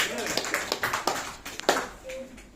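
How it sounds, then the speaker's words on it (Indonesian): A small audience at a seminar gathering gives quick, scattered claps in a short, uneven run while a voice talks over them. "Ya, tepuk tangan buat dia."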